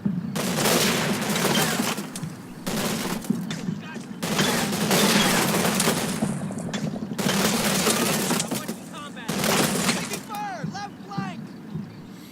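Dense bursts of rifle and machine-gun fire from street fighting in the video game Combat Mission, loud volleys in several clusters with brief gaps, while someone talks over the shooting.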